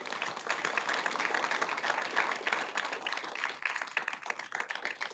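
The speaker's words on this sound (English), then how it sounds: "please stand so we can give a big round of applause" Audience applause at an annual meeting for the standing CVS Health hosts, dense sustained clapping from a large crowd, steady and moderately distant for the whole stretch.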